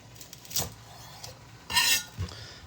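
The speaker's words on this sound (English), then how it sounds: "First thing we want to do is we want to cut off the top of the onion." A knife slices through an onion on a cutting board, trimming the top and root end, giving a few short, close crisp cuts and board taps spaced apart with quiet between.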